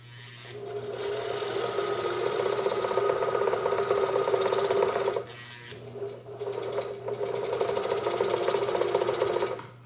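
Singer 99K sewing machine run by its power foot pedal to wind a bobbin, a loud, close, steady mechanical whir with a constant hum, pausing briefly twice before starting up again.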